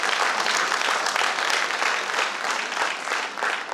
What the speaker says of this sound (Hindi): भाई भी हमारे बजा सकते हैं ताली।